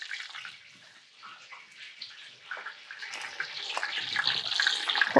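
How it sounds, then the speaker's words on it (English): Heavy cream is poured into a dark brown flour roux, a steady liquid pour that grows louder toward the end, heard close with no talking. "So now we can add in our heavy cream."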